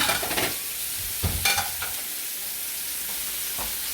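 Onions fry in a pan beside burgers and bacon, a soft steady sizzle under a few clattering stirs and scrapes near the start.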